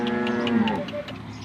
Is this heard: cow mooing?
yes